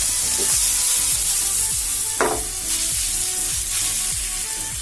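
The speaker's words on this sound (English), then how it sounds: "I'm adding all the sausage here. We'll be frying it for like 30 seconds." Steady, loud sizzling of sausage frying in a pan for ramen, with occasional scrapes of a utensil stirring, close up and continuous.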